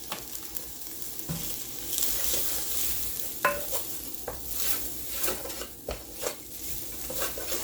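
Rice being stirred into onions in a hot pan, with soft scraping and sizzling that comes in irregular bursts and clinks close by. No one speaks.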